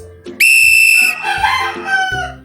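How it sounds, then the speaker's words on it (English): A sharp, shrill whistle blast from a tour guide in Korea rings out loud and steady for about a second, followed by a warbling, wavering tail that fades into softer tones. "I have with me a whistle"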